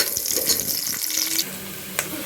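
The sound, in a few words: onion frying in pan until golden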